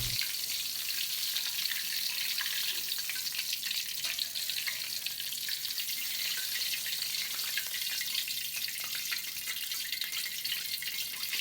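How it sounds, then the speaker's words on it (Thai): Tilapia frying in hot oil until golden and crisp, a steady bright sizzle and crackle that holds evenly from start to finish with no talk. "เราก็ทอดปลาดิบของเราจนสุกเหลืองกรอบทั้งสองด้านนะครับ"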